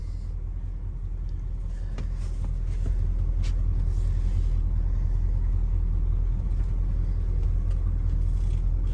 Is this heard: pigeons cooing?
no